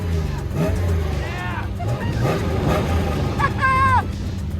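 A 1971 Nissan Skyline revs loudly and nearby at a car meet, with the engine note climbing sharply toward the end while people shout and talk over it.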